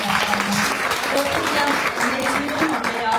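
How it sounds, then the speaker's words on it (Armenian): An audience applauds at a gathering in Tsaghkadzor, a dense, continuous patter of many hands clapping throughout, with voices audible over it. "Ուզում եմ ծափահարեք"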